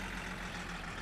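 A car engine idles steadily in the My Summer Car video game, a low, even rumble running unbroken and fairly quiet throughout.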